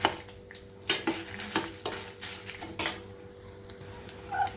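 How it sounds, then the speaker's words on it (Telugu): Chillies frying in a pan while being stirred, with repeated metallic scrapes and knocks of a spoon against the pan at an uneven rhythm over a faint background hiss, close and fairly loud. "ఇప్పుడు మిర్చి వేసుకుందాము. చూడండి, ఇలా వేయించుకుందాము."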